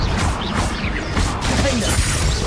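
Confringo fire spell impact in Hogwarts Legacy, a loud burst of crashing, whooshing blasts and debris hits in quick succession, with combat noise around it.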